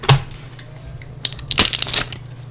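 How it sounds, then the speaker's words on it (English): A lozenge wrapper being torn open gives a sharp crackle at the start, then after a short pause a burst of loud, close crinkling and crumpling rustles. "That's the sound of the lozenge being opened."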